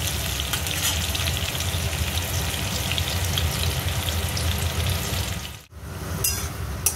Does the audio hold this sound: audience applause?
no